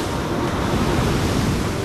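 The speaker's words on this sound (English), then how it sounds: "Swelling seas, a side hit could cause the boat to capsize" Swelling sea waves and wind during a storm at sea around a small boat make a constant, loud, roaring wash with no breaks.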